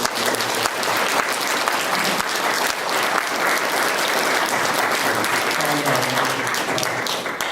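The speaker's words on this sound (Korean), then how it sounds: "우리 박수로 축복하고" A church congregation applauds steadily at an elder and deaconess ordination service, a dense, continuous wash of clapping from a large crowd that fills the room throughout, with a few faint voices mixed in toward the end.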